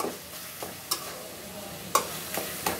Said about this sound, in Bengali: ধৈর্য ধরে একটু নেড়ে নিলেই হবে।